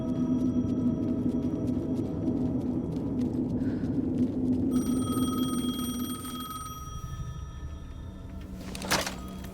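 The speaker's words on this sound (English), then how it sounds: "The payphone was ringing." A payphone rings in the Alan Wake 2 video game, a steady electronic ringing tone rising over a low droning ambient backdrop, followed by a brief sharp clunk near the end.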